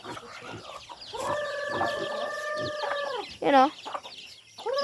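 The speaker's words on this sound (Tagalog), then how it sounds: "Yung manok, oh. Madaming manok." Chickens on a rural provincial farm in the Philippines cluck and squawk nearby in several drawn-out calls, with a short sharp squawk near the end and someone speaking briefly.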